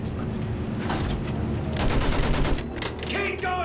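Machine gun fire from a mounted MG in the Battlefield 1 campaign, a dense rattling fusillade of rapid shots running through the whole stretch, loud and close amid battle noise with occasional voices.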